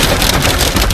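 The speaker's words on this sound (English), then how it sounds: "yesterday another afternoon blast of pelting rain" Pelting rain during an afternoon storm in Sydney, a loud, dense, continuous hiss of drops hammering surfaces close by.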